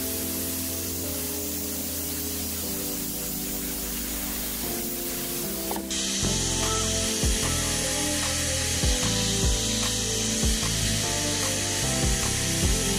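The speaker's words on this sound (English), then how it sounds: "A little refining and sanding of that fitting and it's ready to go." Abrasive scraping and grinding of sanding a metal pipe fitting on a BMW drift car build, first steady, then louder with a power tool whirring and repeated rubbing strokes.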